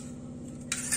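A spoon stirs instant coffee with a little hot water in a cup for cold coffee, giving a steady soft scraping swirl before a brighter clink of metal against the cup near the end, close and alone.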